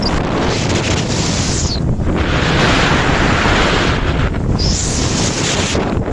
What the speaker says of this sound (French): On arrive au bord de la mer, il y a du vent.